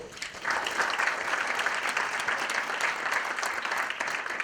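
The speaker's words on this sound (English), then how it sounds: "So let's give him a round of applause" A conference audience at a panel on elder care gives a round of applause, many hands clapping steadily at moderate volume after a brief softer start.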